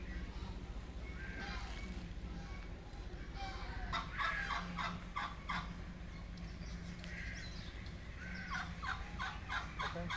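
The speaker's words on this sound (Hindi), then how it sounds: "तो ये है मस्कोवी डक्स," Muscovy ducks at a zoo farm enclosure call in repeated soft bursts over steady low background noise, several birds sounding close to moderately near.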